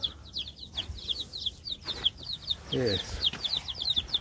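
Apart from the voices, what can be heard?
chicks chirping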